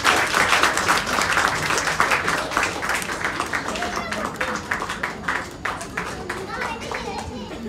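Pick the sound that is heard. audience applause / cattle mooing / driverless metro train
audience applause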